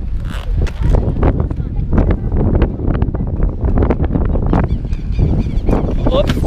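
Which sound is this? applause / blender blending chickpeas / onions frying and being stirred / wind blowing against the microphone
wind blowing against the microphone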